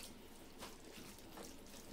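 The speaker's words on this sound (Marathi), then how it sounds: "आता याच्यामध्ये थोडंसं पाणी घालायचं, 2 ते 3 चमचे" Water trickles and splashes faintly into cooking mutton mince in a pan, a soft continuous pour with no voices.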